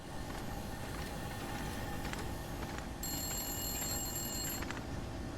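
A telephone rings in the video game The Long Dark, repeated bell-like trills that turn sharper partway through, quiet and steady over a constant low hum of ambient noise.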